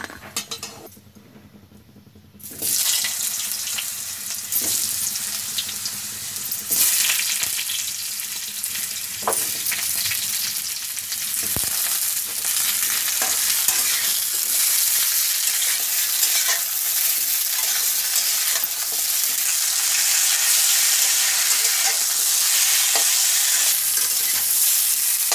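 Badi lentil dumplings frying in hot oil, a loud, close, continuous sizzle that starts after a short quieter moment, with occasional clinks of a utensil against the pan.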